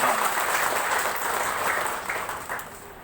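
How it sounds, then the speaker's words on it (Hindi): Audience applause at a matrimonial gathering hall in Mumbai, a steady dense wash of many hands clapping together for about three seconds, sustained and fairly loud, easing slightly toward the end. "मैं चाहूंगा कि आप सब लोग जोरदार तालियों से उनका स्वागत करें।"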